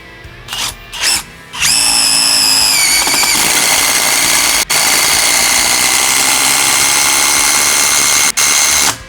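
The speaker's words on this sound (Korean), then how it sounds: "육각 볼트도 이게 원래 나무용이 아닌데도 지금 박히는 거 보이시죠?" A Stanley cordless drill drives a large hex bolt into solid wood outdoors, with a couple of short bursts followed by a loud, sustained high-pitched whine that strains steadily for several seconds, briefly cut twice.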